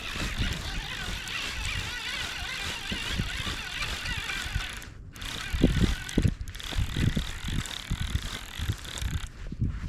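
A fishing reel's drag buzzes continuously in a fast ratcheting whir as a big hooked fish strips line at a reservoir, close and steady, with brief lulls and some splashy handling noise.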